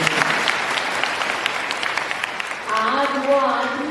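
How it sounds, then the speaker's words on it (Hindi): Audience applause at a Christian church gathering: a dense, steady burst of clapping fills the first few seconds, then fades as a voice and tonal sounds take over. "ताली बजाएंगे।"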